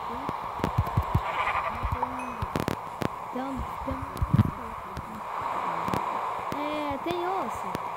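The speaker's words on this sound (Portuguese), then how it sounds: "Achei uma ovelha." Sheep bleat repeatedly in Minecraft, short wavering nasal cries scattered over several seconds among quiet game ambience and faint clicks, with a player speaking now and then.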